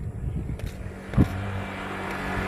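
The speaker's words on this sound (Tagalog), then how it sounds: "lumadaan na sasakyan, motor" A car or motorbike passes on a rural village road near a bridge, its engine rumble steady and fairly close with a brief louder thump midway, amid outdoor background noise.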